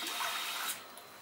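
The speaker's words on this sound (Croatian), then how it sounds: "Dodamo vodu." Water is poured in while elderflower syrup is being made, giving a brief, faint, hissy splash in a kitchen.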